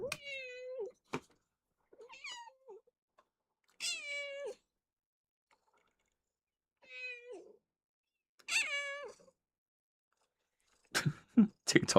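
A cat meows indoors, about six separate drawn-out calls spaced by quiet pauses, fairly close, ending in a burst of crunching or scuffing sounds.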